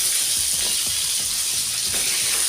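Pieces of pointed gourd (potol) fry in hot oil, giving a continuous close, loud bright sizzle with fine crackling and a constant high hiss, steady throughout and free of talk.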